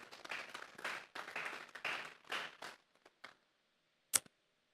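A church congregation at a Sunday service claps as an offering to God, a rhythmic run of group clapping in short bursts that fades to a few scattered claps, then a single sharp clap after a pause, fairly faint overall.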